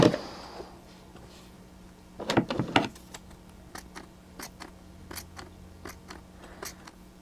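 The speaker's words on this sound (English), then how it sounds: "And we're going to give it a little trim." Scissors trim real fur on a handmade spring puppet, with a cluster of crisp close snips followed by a steady series of lighter, evenly spaced cuts in a quiet room.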